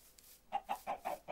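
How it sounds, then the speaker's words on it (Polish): Chickens cluck in the video game Minecraft, a quick run of about five soft, rhythmic clucks at a steady pace, faint and alone without talk. "Kura!"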